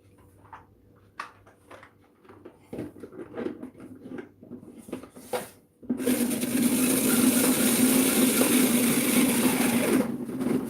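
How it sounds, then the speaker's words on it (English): A salad spinner whirs hard as it spins freshly rinsed, dyed yarn, a loud steady rattling roar that starts abruptly after several seconds of quiet handling knocks and clatter and runs on to the end. "Good old salad spinner."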